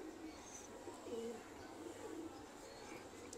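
Soft, low cooing from a Ferozpuri pigeon, a few short murmured coos over quiet background ambience, faint and close with no speech.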